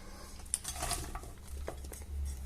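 A baking dish handled on a kitchen counter for a chicken thigh roast dinner, a few light clinks and scrapes with one sharper knock, quiet and close.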